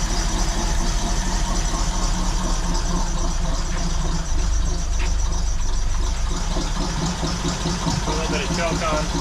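A 1933 three-window coupe engine idles steadily with a little throttle held, a loud, continuous low rumble with an uneven mechanical chatter running throughout.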